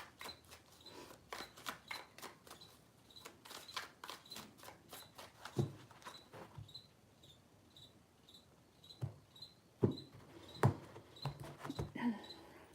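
Tarot cards shuffled by hand in a quiet room, a run of soft riffling flicks and taps in irregular bursts, faint and close, with a steady high insect-like chirp in the background.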